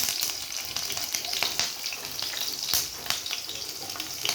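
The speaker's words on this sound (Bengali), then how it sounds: "তেলটা গরম হয়ে গেছে আমি লঙ্কাগুলো দিয়ে দেব এখানে একটু কাল জিরা দিব" Green chilies and nigella seeds frying in hot oil make a bright, crackling sizzle with frequent sharp pops and spits, close and steady for a few seconds.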